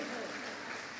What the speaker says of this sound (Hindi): ताली बजा दीजिए फिर।